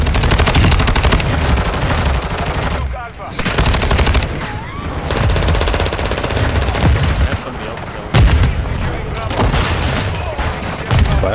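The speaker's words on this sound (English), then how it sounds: "This is that map where you get the LMG and you just hold down." Light machine gun fire in a first-person shooter video game on a small close-quarters map, with dense, sustained automatic bursts and explosions nearly nonstop, loud and up front, with brief pauses and a voice talking under it.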